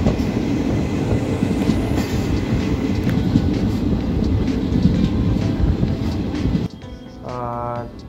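Train running on the rails after leaving Howrah, a steady loud rumble with rhythmic clatter from inside the carriage, then the noise drops suddenly as a brief voice is heard near the end.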